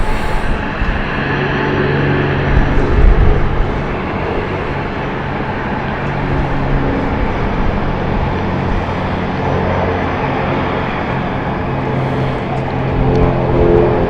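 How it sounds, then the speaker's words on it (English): A Cessna Caravan crosses London City Airport as a loud, steady propeller-engine drone with low hum, swelling slightly around the third second and holding throughout without talk. "The aircraft that you heard on the radio, if you did hear about radio about information about crossing the airport, is actually just crossing right now"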